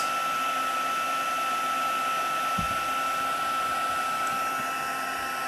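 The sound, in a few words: heat tool melting black embossing powder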